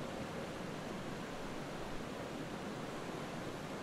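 The river beside a tented safari camp on the Mara flows with a constant, even rushing wash, steady and unbroken at moderate level with no other sounds.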